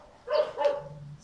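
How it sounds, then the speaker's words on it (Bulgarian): Dogs barking, a couple of quick yapping barks close by, moderately loud, followed by a short low whine. "Чуваш ли лаят?"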